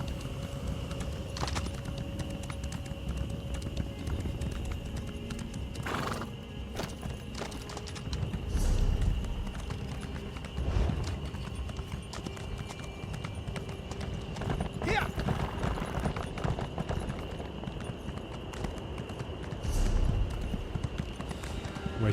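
Horse hooves clip-clop in a steady rhythm in Elder Scrolls Online, close and continuous, with occasional snorts and a whinny over a constant game ambience.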